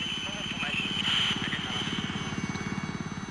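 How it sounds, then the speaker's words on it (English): A military helicopter coming in to land, its rotor thudding in a steady rapid pulse under a whining turbine, loud and close, with the beat becoming more distinct toward the end. "As the first chopper comes into land"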